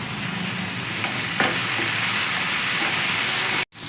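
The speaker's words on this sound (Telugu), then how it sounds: "ఇప్పుడు టమాటో ప్యూరీ ఉంది కదా, ఇది వేసేద్దాం. దీన్ని బాగా మిక్స్ చేసుకుందాం." Tomato puree hitting a hot frying pan for a bitter gourd curry, a loud, even sizzle with faint stirring scrapes and a short break just before the end.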